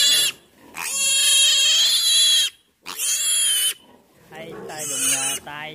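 A piglet being dosed with medicine for diarrhea squeals loudly and shrilly at close range, three long piercing bursts separated by brief pauses, with no talk.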